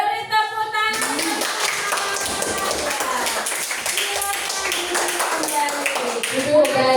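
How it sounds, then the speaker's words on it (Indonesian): A classroom audience applauds after a group presentation about the food chain, with brisk clapping from many hands that runs steadily under overlapping talk and voices. "Ya, beri tepuk tangan."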